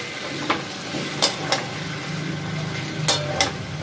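A boal fish head sizzles as it is stir-fried in spice paste with a little water, steady frying hiss punctuated by several sharp spatula scrapes and clinks against the pan.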